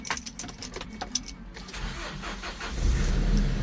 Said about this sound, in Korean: 21만 8천 키로인데 엔진 소리 조용하고요